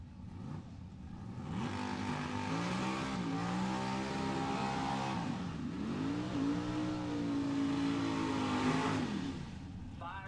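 A drag racing car does a tire burnout: a loud, sustained engine wail rises and falls in pitch over several seconds, with rough rushing noise throughout.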